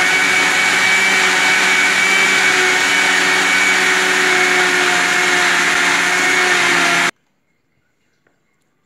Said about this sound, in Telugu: ఇప్పుడు మూత పెట్టుకున్నాం కదా మిక్సీ వేసుకుందాం